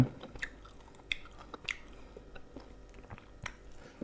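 Close, crisp chewing of crunchy cha-om (acacia shoots) eaten with rice and chili dip, with irregular crunches and bites that are quiet but distinct, with no talking.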